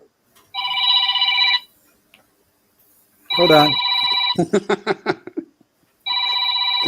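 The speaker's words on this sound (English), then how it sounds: "You guys have a home phone still?" A home landline telephone rings loudly in repeated electronic bursts, three rings spaced across the stretch, with a voice speaking briefly between them and some clattering noises nearby.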